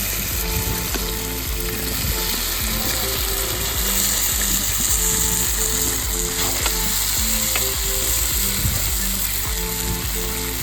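Potatoes frying in a new pan for a country chicken curry, a loud continuous sizzle with rhythmic scraping and stirring of a spatula throughout.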